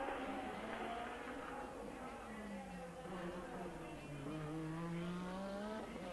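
Formula One cars at the 1986 Monaco Grand Prix exit the new chicane with high, rising and falling engine whines, one car's pitch sweeping up and down as it accelerates, faint and distant under steady background noise.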